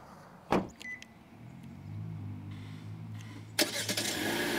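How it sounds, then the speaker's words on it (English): A 2024 Hyundai Elantra Preferred is started by remote start: a few faint clicks, then the engine catches and settles into a low, steady idle hum, followed by a louder rushing swell near the end. "Remote start, you press your lock and then you hold it"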